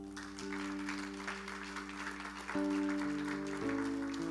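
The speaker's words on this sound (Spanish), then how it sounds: "¿por qué no le das un aplauso al Señor?" Church congregation applauding during a Spanish-language worship service, a soft wash of clapping under sustained organ or keyboard chords that shift a few times, fairly distant and faint.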